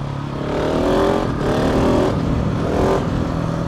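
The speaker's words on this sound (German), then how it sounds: "Man hat endlich wieder dieses Brabgeräusch, wisst ihr? Dieses Supermoto-typische Knattern." A Husqvarna-style supermoto motorcycle, an SMCR fitted with a new Remus exhaust end can, revs loudly and close in three rising blips over a rough, crackling idle, with no speech.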